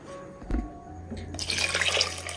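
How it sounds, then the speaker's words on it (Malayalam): Water from a rinsed grinder jar pours into a pressure cooker already holding ground paste for a mackerel dish, starting after a brief clunk and building into a close, bright, splashing stream. "ഇനി ജാറ് കഴുകി ആവശ്യത്തിനുള്ള വെള്ളവും കൂടി ഒഴിച്ചു കൊടുക്കാം"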